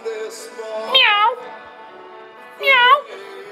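A voice imitates a cat meowing, with one short mew followed by two drawn-out, rising meows spaced across a few seconds, close and clear with no other sound.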